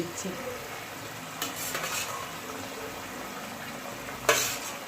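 Boiled eggs coated with turmeric and salt fry in a pan, giving a soft, steady sizzle under occasional utensil scrapes and one sharp metallic clink near the end.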